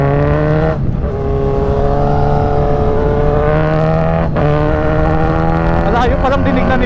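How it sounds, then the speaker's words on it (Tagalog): A Kawasaki Z1000 big bike at a motorcycle event rumbles loudly at close range with a steady idle and brief throttle blips, with people talking nearby. "may nagpapapomba ulit oh."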